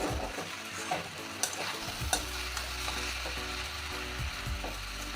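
Cabbage and rice cook in a pot while a spoon stirs them, giving a soft bubbling hiss punctuated by a few clinks and scrapes against the pot, over a low steady hum.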